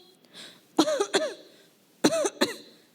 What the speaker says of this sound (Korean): 계속 기침을 해요.